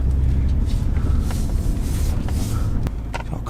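High-mileage BMW M3 bought at a car auction, driven on the road with one flat tyre: steady close engine and road rumble with a few sharp knocks and clicks, level easing near the end, no talk.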